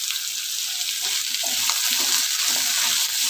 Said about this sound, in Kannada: ಹೀರೆಕಾಯಿ, ಬೆಳ್ಳುಳ್ಳಿ, ಈರುಳ್ಳಿ ಇದನ್ನೆಲ್ಲ ಕ್ಲೀನಾಗಿ ಫ್ರೈ ಮಾಡ್ಕೊಳ್ಳಿ.